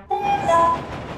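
A red diesel locomotive sounds its horn in one loud, close blast lasting about a second, starting abruptly and shifting pitch partway through before fading, with no speech.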